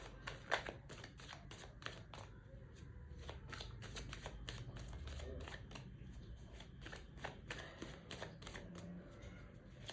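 Tarot cards are shuffled by hand in a quiet room, a series of soft, rapid riffling and slapping bursts repeating close up, with brief pauses between shuffles.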